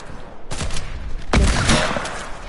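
Pulse rifle fire in a video game: a loud close burst of shots around the half-second mark, then a heavier blast of fire with dense crackle that keeps going to the end.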